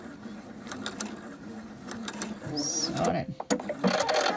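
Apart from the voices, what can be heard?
sewing machine stitching fabric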